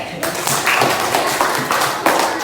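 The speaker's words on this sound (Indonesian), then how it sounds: "kasih tepuk tangan" A school class claps hands together, a brisk, steady patter of many palms filling the room for a couple of seconds.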